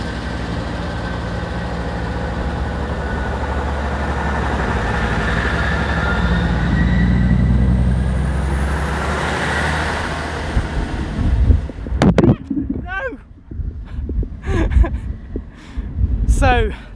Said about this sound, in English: the wind completely messed up my nice shot of the train departing there.